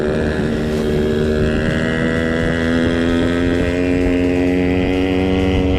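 Yamaha RX 125 motorcycle engine running steadily at close range, a loud continuous tonal drone with stacked harmonics and a slight rise in pitch, no voices present.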